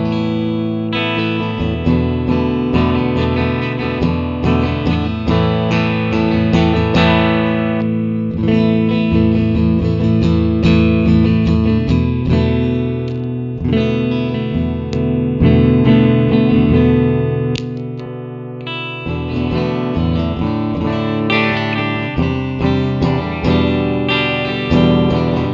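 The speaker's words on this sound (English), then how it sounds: "Great clean sounding amp." A clean electric guitar through a Fender Twin Reverb amp model on an Axe-Fx III plays chords and melodic lines with a warm, lightly reverberant tone, steady and up close with no talking.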